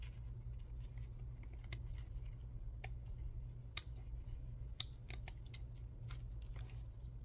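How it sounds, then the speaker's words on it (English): Scissors snip sharp, scattered cuts while trimming a coffee filter into a pocket shape, quiet and close over a steady low hum. "those need to be trimmed to the pocket"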